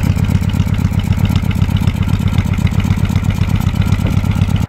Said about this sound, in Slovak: keď stlačíš vzadu zabzučí prívera a máš otvorený zvuk nádherne bublajúci